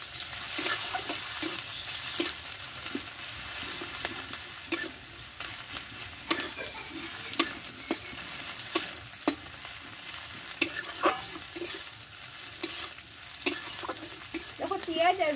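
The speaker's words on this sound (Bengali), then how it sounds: "হলুদটা দেওয়ার পরে পেঁয়াজটা আমি ভালোভাবে ভেজে নেব" Onions frying with turmeric powder in a pan for a Bengali-style tomato mash, a steady close sizzle with repeated sharp clicks and scrapes of stirring throughout.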